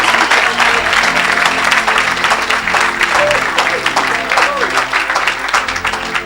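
A church congregation applauding and cheering during a lively worship service, a dense, continuous wall of clapping and crowd noise that stays loud and close throughout, with a few voices rising above it.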